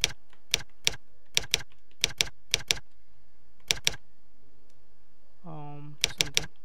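Computer keyboard keys typed in short clustered bursts of clicks with brief pauses between them, close and clear, along with a short tonal chirp near the end.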